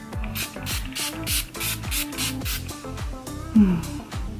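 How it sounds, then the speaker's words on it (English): Quick bursts of a makeup setting spray pump hiss in a steady rhythm, close to the microphone, each short spritz onto a face following the last with a faint mechanical click. "So I'm gonna go ahead and spray my face."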